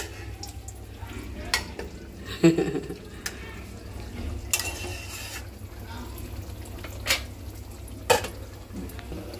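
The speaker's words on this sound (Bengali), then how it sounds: "2 পিস বেগুনও ভেজে নিতেছি, একটা ডিমও ভেজে নেব।" Brinjal pieces and an egg fry in a pan, producing a low, steady sizzle punctuated by a few louder clatters and stirring knocks.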